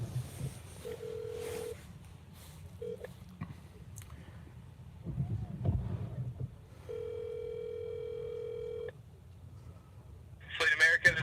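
A telephone call placed from a phone: a short series of dialing tones, then long steady ringback tones repeating, with faint background noise and a voice near the end.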